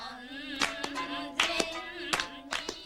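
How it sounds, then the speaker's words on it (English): Rhythmic hand clapping in Japan, sharp claps in an uneven patterned rhythm over a steady musical tone, close and moderately loud. "The girls were stunned by how quickly I caught on to the intricate patterns of rhythmic clapping"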